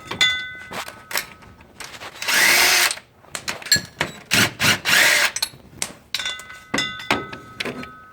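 Power tool spinning out two 13mm bracket bolts on a Ford Super Duty V10 truck during 4R100 transmission work: loud whirring bursts of a second or so, broken by clanks and handling knocks, repeated close up.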